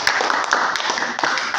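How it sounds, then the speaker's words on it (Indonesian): Brief burst of dense audience applause for Pak Afan at a group meeting, many hands clapping close and loud throughout. "kita beri aplaus untuk Pak Afan"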